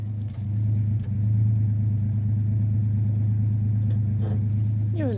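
A Rover P4 classic car engine, freshly fitted with new gaskets and tuned, holds a steady, smooth fast idle close by, its even low rumble continuing unbroken throughout.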